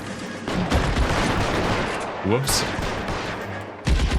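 Automatic BAR rifle fire in the video game L.A. Noire, a steady stream of fairly close shots running through most of the stretch, with a brief spoken exclamation partway through.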